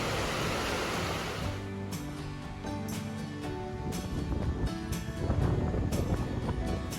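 The St. Louis River rushes under a small footbridge in Jay Cooke State Park, a broad steady roar of flowing water, loud and close, with no talk.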